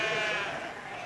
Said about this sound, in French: Mais il y a aussi les brebis de race corse, rustiques et résistantes